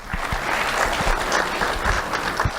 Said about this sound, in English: A round of applause for Colin.